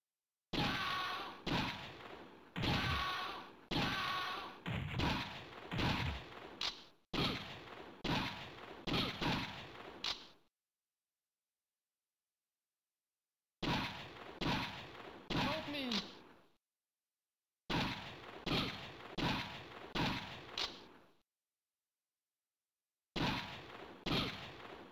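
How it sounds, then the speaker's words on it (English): Shotgun blasts in the Virtua Squad video game, loud repeated booming shots fired in quick bursts and separated by short silent gaps. "Shotgun."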